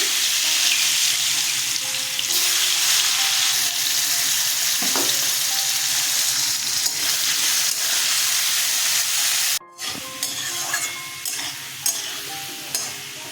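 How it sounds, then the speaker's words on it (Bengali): Potatoes drop into hot mustard oil in a pan and fry with a loud, steady sizzle and hiss that runs on, then quiets into uneven bubbling crackles near the end. "তেল গরম হয়ে গেছে, আলুগুলো ছেড়ে দিচ্ছি"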